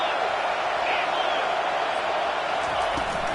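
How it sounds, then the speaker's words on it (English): Football stadium crowd roaring steadily before a second-down play, a dense, constant wash of cheering and whooping from thousands of fans that never drops over the few seconds. "this crowd is turning it up a notch"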